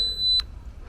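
A camera's self-timer gives a single steady high-pitched electronic beep lasting under half a second before stopping, heard close by over faint outdoor background on a woodland outing.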